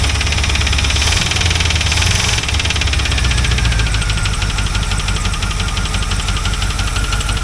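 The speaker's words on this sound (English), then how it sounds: "Well, idle's nice and low." A C4 Corvette V8 idles on an Edelbrock carburetor, a loud and close rumble with a steady pulsing beat that stays low and even throughout, and no speech is heard.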